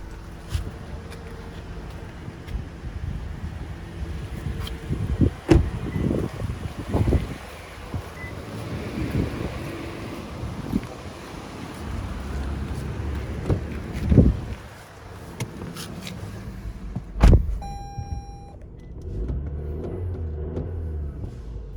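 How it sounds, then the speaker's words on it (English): A 2020 Toyota RAV4 engine idles steadily in a low rumble throughout, with wind buffeting and occasional handling clunks and thumps nearby. "We switch the green button to the on position and disconnect AST PRO. The engine continues to work."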